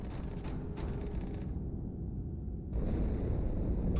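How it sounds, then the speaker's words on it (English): A loud, rumbling blast inside the Athens ship during a Halo 2 cutscene, a dense low roar that dips briefly before surging back stronger and sustained, with no talk. "Die Explosion kam aus dem Innern der Athen, genau wie bei der Malta."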